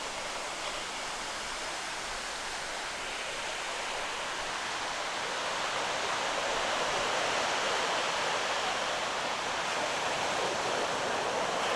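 Waves on Mandrem Beach in Goa make a steady, broad roar of surf that swells slightly louder over time, with no voices.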